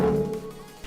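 A reverb tail squeezed and distorted hard through Camel Crusher compression, a short, dense, gritty wash that fades over under a second with a faint glitchy flutter near the end.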